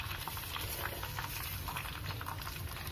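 Hibiscus leaves and petals dropped into hot oil in a pan, giving a steady, dense sizzle and crackle that holds evenly throughout with no voices.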